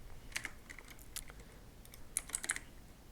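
Keystrokes on a computer keyboard entering command prompt commands, scattered clicks in short bursts with a quick flurry near the end, close and fairly quiet, no voices.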